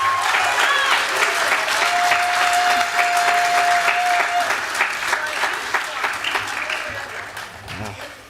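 Steady audience applause fills the hall at a college student recognition ceremony, a sustained crowd of many hands clapping at even loudness, tapering slightly toward the end, with a faint tone and murmur underneath.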